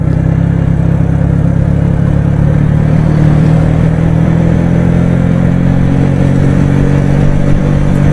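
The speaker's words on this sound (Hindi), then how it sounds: "अब बगैर जोर लगाए खुद ब खुद दूसरे गियर में कोई 45 पर बाइक चली गई।" A motorcycle rolls downhill on a mountain road near Naran, coasting in second gear at about 45 with a steady low engine drone and road rumble, close and continuous throughout.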